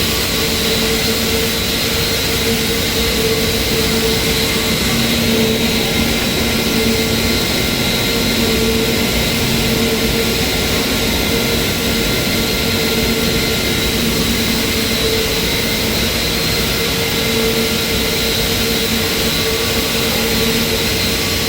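A straight line wire drawing machine runs with its transparent cover in place, producing a loud, constant mechanical roar with a steady whine and hum that never lets up.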